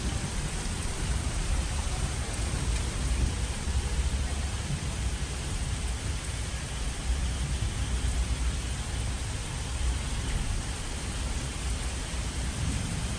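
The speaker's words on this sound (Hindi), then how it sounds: "बाहर हो रही है बारिश।" Rain pours steadily outdoors in the middle of the night, around one or two o'clock, making a dense, even hiss that never lets up.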